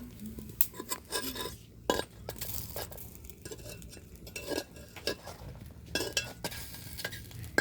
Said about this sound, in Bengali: এই দুধের মধ্যে এখন গুড় মেশানো হচ্ছে